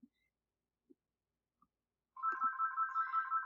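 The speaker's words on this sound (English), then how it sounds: "And the phone's ringing." A phone ringtone starts after a few faint scattered clicks and repeats in a steady warbling electronic pattern, moderately loud and alone with no talk over it.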